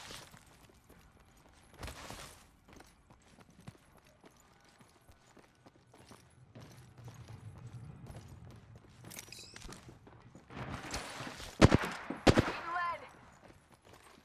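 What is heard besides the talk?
gunfire in the video game Apex Legends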